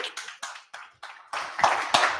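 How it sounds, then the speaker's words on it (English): A small meetup audience at a coding community demo evening claps to welcome a speaker, starting as a few separate hands and thickening into fuller applause over a couple of seconds. "Please give him a big round of applause."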